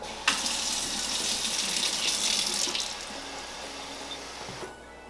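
Hot water gushes steadily from a tap into a plastic bottle for a few seconds, then cuts off, leaving a quiet room.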